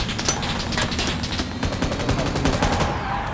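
Rapid bursts of automatic gunfire crackle from a PUBG match, with dense, sharp shots repeating over about three seconds, fairly loud and close.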